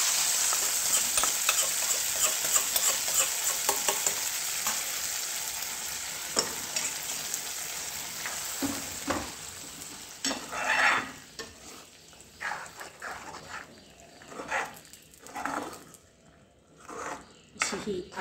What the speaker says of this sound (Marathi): फोडणी तयार आहे. ह्या भाजीवर घालायची आहे.